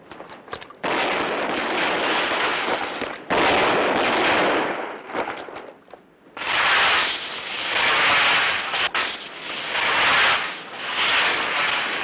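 Repeated loud bursts of rushing, crackling blasts come in waves with short gaps between them, like rockets going off nearby.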